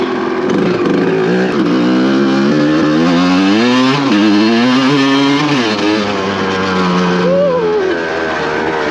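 A 1990 Suzuki RMX 250 two-stroke motorcycle is ridden on a snowy track, its buzzy engine loud and close, rising and falling in pitch as the throttle changes.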